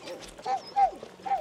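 A sled dog in Greenland whimpers and whines in short high-pitched bursts, three thin cries spaced across a second or so, close by over quiet background rustle.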